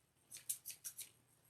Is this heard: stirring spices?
no